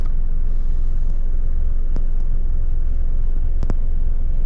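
Road traffic near Carrick in Tasmania rumbles steadily past a car on a country highway. The low, constant drone has a couple of brief higher swishes as vehicles pass, and no voices are heard.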